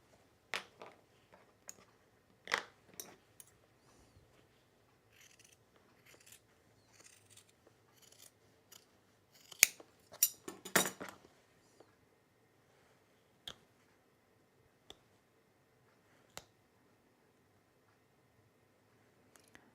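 Scissors cutting a fabric template for jeans, with faint sparse snips and small clicks, a brief cluster of louder rustling cuts midway, then quiet gaps.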